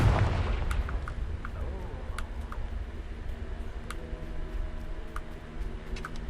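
Confringo explosion spell in Hogwarts Legacy bursts with a deep boom at the start, followed by a low rumbling tail and scattered sharp clicks and ticks.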